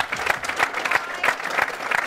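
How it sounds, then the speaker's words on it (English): Dense, steady applause from a crowd at a Cage Rage 24 MMA press conference, a continuous wash of clapping filling the whole stretch at close range. "Big round of applause"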